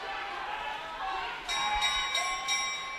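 A hand bell rings several quick strikes for the final lap of a long track speed skating race at the US Championships, heard over a crowd's murmur.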